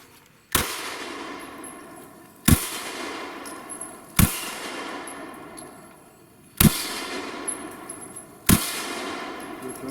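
Five sharp Springfield Hellcat pistol shots ring out at a slow, uneven pace, each followed by a metallic clang of the steel target and a decaying echo outdoors.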